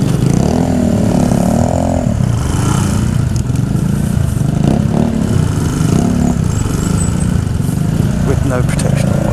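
Small two-stroke motorbikes ridden by boys in a village, their engines buzzing and rising and falling in pitch close by, with people talking over the steady engine drone.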